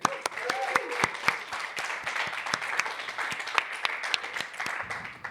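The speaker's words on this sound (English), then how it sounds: "Round of applause for him." A festival crowd at a live podcast recording applauds, with scattered claps and cheering that hold steady across the stretch rather than building to a roar.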